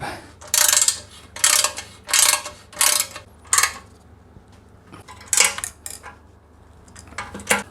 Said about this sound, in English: Go ahead and torque these up.